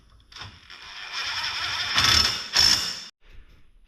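A ratchet tightens 15mm bolts on the forward A-arms of a Segway UT10 utility vehicle, a close, brief run of clicking and grinding that swells twice before stopping, with no talk.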